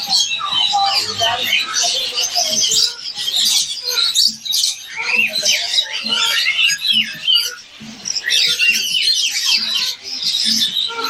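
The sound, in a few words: birds calling at Bangkok pet market, sparrow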